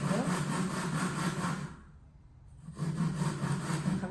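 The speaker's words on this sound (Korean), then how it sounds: "자, 이 상태에서 톱질을 계속 이어갈게요." Hand saw cutting through a wooden board in steady back-and-forth strokes, close and loud, pausing briefly in the middle before the rasping strokes resume.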